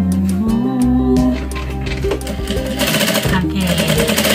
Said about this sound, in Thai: แบออกแล้วก็เย็บอย่างนี้นะคะ